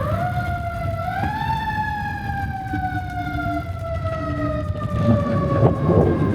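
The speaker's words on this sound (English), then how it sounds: "That's a horrible sound from a fire truck." A fire truck siren wails loudly and steadily, its tone rising early and then slowly falling over several seconds, with low traffic rumble beneath and a brief short horn-like tone sounding twice.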